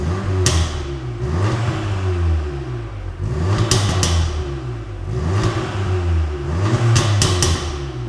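An Audi S3 with a custom valved exhaust and GPF delete, warmed up and with its valves closed, revs in repeated blips, each rising and falling in pitch, fairly muted and throaty with brief quiet gaps between pulls.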